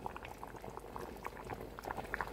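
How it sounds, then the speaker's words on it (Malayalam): A pot of fish curry bubbles over low heat, with quiet, close, irregular pops and blips of thick liquid going on steadily throughout and no speech. "ഇപ്പം നന്നായിട്ട് തിളയ്ക്കുന്നുണ്ട്"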